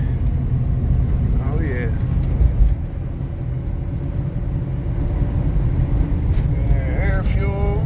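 A truck cruises along a rural road in Mississippi, its engine and road rumble steady and close throughout, with someone talking briefly over the drone.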